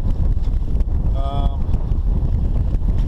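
Strong southwest wind buffets the microphone on a sailboat out on Lake Erie in one- to three-foot waves, a loud continuous rumbling roar with a brief tonal whistle in the middle.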